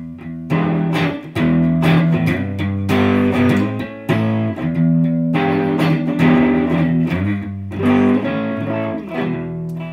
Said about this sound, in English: normally you think of a fuzz face as getting you these kinds of tones.